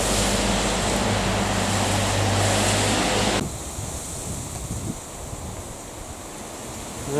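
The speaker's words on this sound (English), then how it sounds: "She's pretty windy today." Strong gusting wind roars across the microphone for a few seconds, then drops to a softer steady rush that swells again at the very end.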